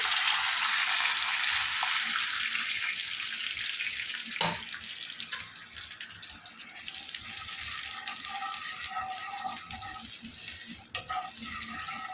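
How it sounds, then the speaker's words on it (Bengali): Water poured into besan batter for khaman dhokla: a continuous hissy splashing stream, close and steady for several seconds, with a brief clunk partway through and no talking. "এবার জল দিয়ে দিচ্ছি।"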